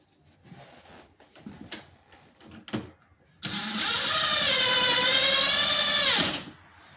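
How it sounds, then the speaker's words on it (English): A few handling knocks, then an impact driver whirs loudly for about three seconds driving a screw during kitchen cabinet installation, winding down as the screw seats. "you heard that little pop from this impact driver"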